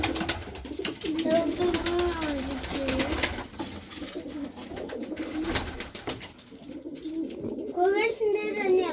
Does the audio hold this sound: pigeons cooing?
yes